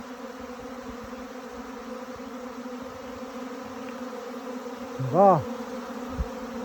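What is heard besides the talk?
bee swarm buzzing while entering an empty hive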